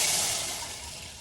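Water pours in a steady rushing stream that slowly softens toward the end.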